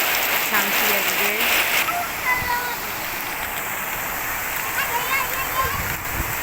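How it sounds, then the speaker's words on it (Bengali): Rain pours steadily in hot weather, an even splashing hiss of water hitting surfaces, with a few thin higher calls and a faint voice weaving through the wet noise. "দেখুন বৃষ্টিতে চারিদিকের পরিবেশটা পরিষ্কার হয়ে যাচ্ছে, বৃষ্টি সব ধুয়ে পরিষ্কার করে দিচ্ছে।"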